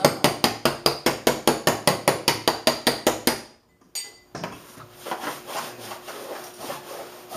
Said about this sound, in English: You can hit it with your hammer like that.